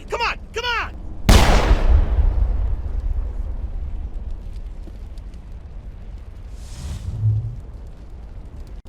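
Gunfire and a heavy blast ring out during a video game firefight on the colony of Feros, with sharp reports early, a big booming burst at about one second that rumbles on, and a fainter pop later.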